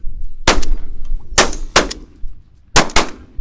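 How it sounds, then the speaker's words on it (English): Four loud, close shotgun blasts fired at geese during a decoying goose shoot in Scotland, in two quick pairs with sharp cracks and short echoing tails, no talk. "Shot, Bruno. Hit again"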